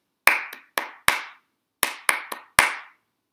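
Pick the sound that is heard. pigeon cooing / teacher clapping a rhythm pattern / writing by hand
teacher clapping a rhythm pattern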